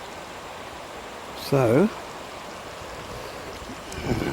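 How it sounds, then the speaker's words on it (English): Geroldsau waterfall in the Black Forest, Germany, a steady broadband rush of falling water heard from a distance, with a short spoken word partway through. "I can hear the sound of waterfalls."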